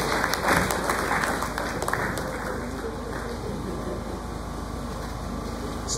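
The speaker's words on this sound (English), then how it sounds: "round of applause." Lecture hall audience at a university annual lecture series giving the Deputy Vice Chancellor a round of applause, dense sustained clapping with a few sharp individual claps early on, continuing throughout.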